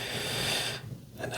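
A slow, airy inhale during a soft-spoken guided breathing exercise, close and breathy, fading into quiet near the end.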